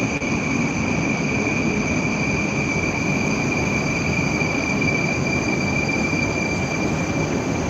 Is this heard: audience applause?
no